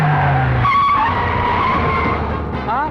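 An Ambassador car rolls in through a gate in an Indian action film scene, tyres squealing and skidding loudly with a close engine rush, music layered beneath.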